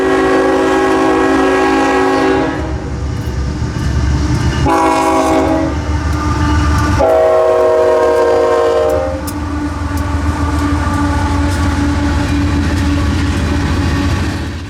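A freight train rumbles past close by in Folkston, Georgia, its horn sounding in several long blasts over the steady roar and clatter of wheels on the rails.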